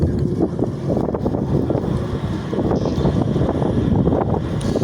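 Strong wind buffets and roars against the microphone in continuous gusts while fishing, with a low rumble like a boat on choppy water underneath.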